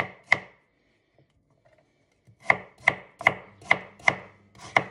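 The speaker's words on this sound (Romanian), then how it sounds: "îmi tai morcovul felii" A knife slicing carrots on a board: one sharp chop, a pause, then five evenly spaced crisp cuts close up, with no voices.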